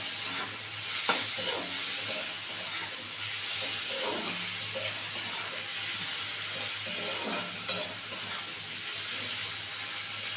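Potatoes, onions and chillies fry with turmeric in a pan for a fish curry, giving a steady close sizzle with intermittent scraping stir strokes throughout and no talking.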